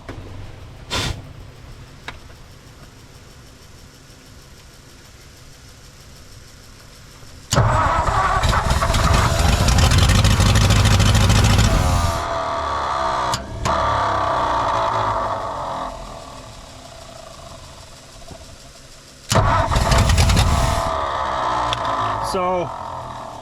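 A 1959 Ford F-600 straight truck's Y-block engine cranks in loud bursts, one long around eight seconds and another near the end, each starter whir catching briefly without settling into a steady run, with quieter gaps and voices between.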